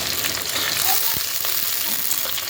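Onions sizzle and crackle in hot oil with bay leaf and cumin, a steady close frying hiss with a few brief stirring clicks and no talking.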